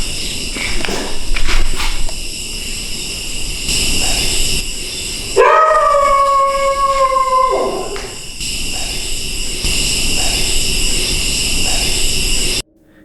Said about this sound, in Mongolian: байшингийн хойноос нохоог өлж хуцаж эхлэхээс өмнө